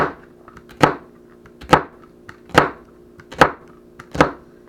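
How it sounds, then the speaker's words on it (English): Five evenly spaced knife chops on a cutting board, sharp thuds at a slow, steady rhythm, close and alone. "I'm going to just chop bite-sized chunks."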